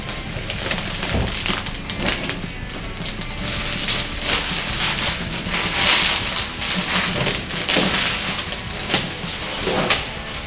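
Masking is peeled off a freshly painted no-prep drag car body, a loud, continuous crackling and tearing rasp that sounds close and fills the whole stretch with no talk.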